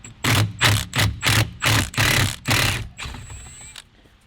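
A Loctited steering column switch bolt on a Nissan 350z is driven out with a power tool in about eight loud, rapid, evenly spaced rattling bursts, followed by a softer fading whir.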